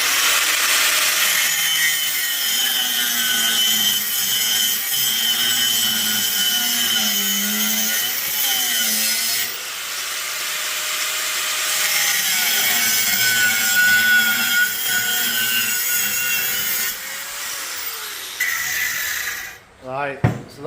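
An angle grinder with a cutting disc bites into an electric bike part, a loud continuous harsh grinding roar with shifting pitch that cuts off near the end.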